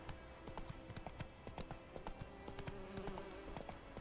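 A horse's hooves clip-clop at a steady walking pace in The Witcher 3 on PC, an even run of soft, distinct strikes heard alone over a faint background.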